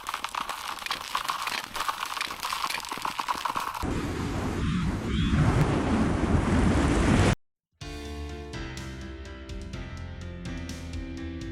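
Strong wind blows as a loud, rough roar buffeting the microphone outdoors, surging heavier midway before the sound abruptly cuts out and something else follows.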